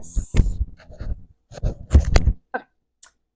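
Handling noise as a microphone is moved and clipped onto a diamond art canvas: a few close, muffled thumps and rustles, then brief sharper clicks and scrapes with short pauses between.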